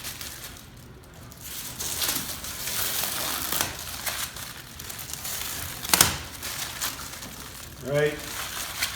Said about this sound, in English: our next step is to remove the protective wrap